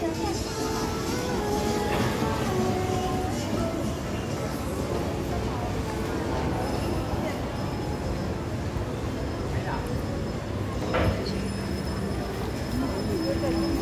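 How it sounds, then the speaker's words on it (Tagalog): MRT train passing below street level in Chinatown, a steady rumbling rail noise under a busy crowd with voices talking throughout. "MRT rito sa baba."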